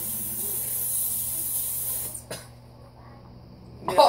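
A glazed-donut-flavoured gum spray lets out a continuous hissing spray for about two seconds, followed by a couple of short clicks and a brief final burst.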